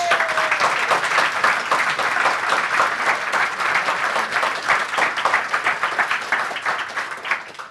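A large audience gives a big round of applause at a talk, dense sustained clapping that fills the room from start to finish with no speech over it.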